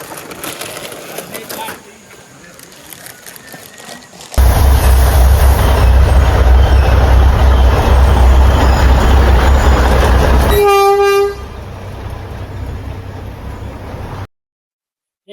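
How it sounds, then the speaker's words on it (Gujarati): A train rolls past in a forest near Matheran, Maharashtra: a loud, steady rumble of wheels and wagons runs for about six seconds, then a horn sounds with clear tones before the noise fades and the clip cuts off. "જોઈ લો ટ્રેન પણ આવી ગઈ છે જંગલમાં."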